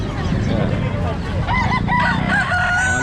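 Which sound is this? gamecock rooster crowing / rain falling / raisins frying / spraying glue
gamecock rooster crowing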